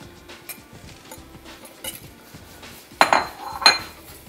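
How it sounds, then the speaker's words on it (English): A metal whisk works shredded cheddar tossed with flour into simmering beer in a pot, with soft scraping and stirring followed by two sharp clinks against the side. "We're going to start whisking that right in."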